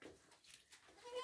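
Newborn goat kids give faint, thin bleats from close by in a quiet pen, a few short cries scattered across a brief moment with no talking.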